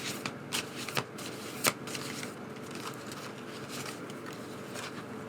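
Tarot cards shuffled by hand during a reading, a soft papery riffle with a few crisp snaps early on, then a steady faint rustle, close and alone.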